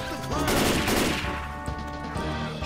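Gunfire at clown zombies in the video game Left 4 Dead 2 with a Crash Bandicoot mod, a loud, close burst of rapid shots followed by a few scattered single shots.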